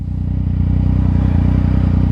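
A Yamaha Tracer 900 motorcycle with an aftermarket exhaust gives a loud, close, steady low engine rumble with a fast, even pulsing beat.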